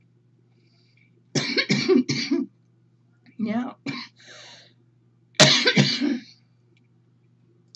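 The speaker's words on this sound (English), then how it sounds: "I still have this cough." Someone coughs several times in short harsh bursts, three separate clusters of rough hacking and throat clearing spaced across a quiet room, with a word spoken briefly.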